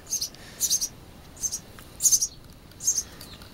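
Birds chirp around a hut in the Thar desert of Rajasthan, India. Their short high tweets come in bursts of about one every half second, close and clear over quiet, with no voices.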